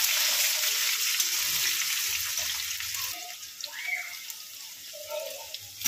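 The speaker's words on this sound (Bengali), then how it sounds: "একটা পেঁয়াজকে লম্বা লম্বা করে কেটে দিয়েছি, ভালো করে ভেজে নেব।" Long-sliced onion frying in oil with radhuni and dried chilli for a Bengali mixed-vegetable dish, giving a steady close hiss and sizzle with faint bubbling and scraping, no talking.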